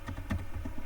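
Quick keystrokes on a computer keyboard while a command is typed, a short patter of several light clicks, close and faint, with no talk.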